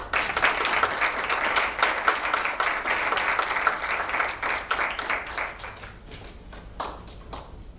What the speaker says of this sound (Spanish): Recibamos a Silvia Orozco con un fuerte aplauso